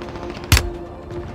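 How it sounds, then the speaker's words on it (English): A single sharp gunshot in the Call of Duty Resurgence battle royale game, one brief, fairly close crack standing out over a low steady background hum. "I'm taking effective fire!"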